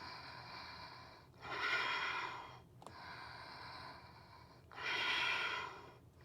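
Two strong, close breaths taken while holding a handstand in a core workout, each a slow airy exhale separated by quieter pauses, with no talking.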